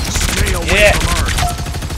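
Weapon fire in the hero shooter game Marvel Rivals, a dense rattling burst that is loud and continuous for about two seconds, with a tonal whoosh of ability effects layered through the middle.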